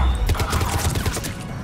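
Rapid bursts of gunfire from a weapon in Mass Effect 3 during a Mars mission fight, a quick fusillade of sharp repeated shots with mechanical clatter, moderately loud and steady over roughly a second and a half.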